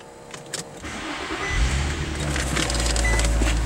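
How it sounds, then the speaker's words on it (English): A 2006 Infiniti G35x engine cranks and fires after a few faint interior clicks, then settles into a loud, steady idle close by. "Okay, I get into the vehicle and gonna start it up."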